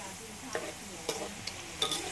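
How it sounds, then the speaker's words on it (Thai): French fries frying in a pan of oil, stirred steadily: a soft continuous sizzle with a few light scraping and stirring clacks, close and without talk. "เอาใส่กระทะ แล้วไปทำอย่างอื่นไม่ได้นะ ต้องคอยคนอย่างนี้นะครับท่านผู้ชม"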